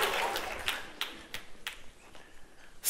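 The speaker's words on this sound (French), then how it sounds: "on peut l'applaudir" Audience applause for a stuntman, a brief thinning round of claps that dies down into a few scattered, sharp individual claps.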